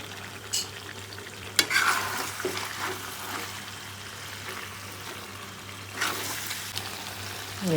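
Ginger and garlic frying in a pan for village-style jackfruit with pork, a steady sizzle with occasional sharp stirring scrapes and clatters, close and moderately loud, with no talking.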